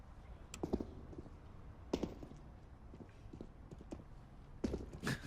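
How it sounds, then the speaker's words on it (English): Player footsteps in a CS:GO match, irregular soft thuds and taps at low to moderate level, some clustered steps, with faint background noise and no talk. "Lots of running for Zeus to hear."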